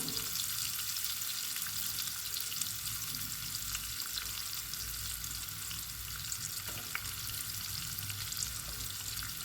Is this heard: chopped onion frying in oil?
yes